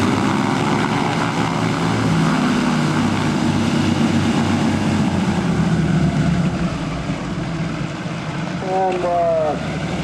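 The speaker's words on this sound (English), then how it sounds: "I'll give you a flyby on the upwind and then make another circuit land." A propeller seaplane at a lake fly-in drones past in a sustained, moderately loud engine hum that fades slightly toward the end, with voices and radio chatter faintly underneath.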